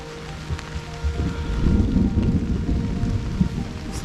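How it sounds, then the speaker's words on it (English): A rainstorm over a cherry garden, steady rain hissing with a low rolling rumble of thunder swelling through the middle, moderately loud and without voices. "It's thundering."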